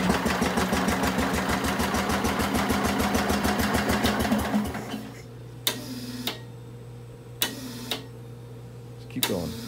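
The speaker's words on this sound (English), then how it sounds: "Alright, I'll just put the throttle up a little bit." A Bolens garden tractor engine runs steadily with rapid, even firing pulses, then drops to a lower idle rumble broken by a few sharp clanks and knocks.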